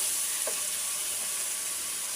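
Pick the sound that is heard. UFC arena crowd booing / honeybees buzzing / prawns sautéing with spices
prawns sautéing with spices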